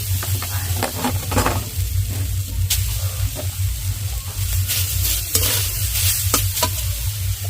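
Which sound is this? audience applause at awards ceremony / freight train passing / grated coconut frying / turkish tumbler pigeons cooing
grated coconut frying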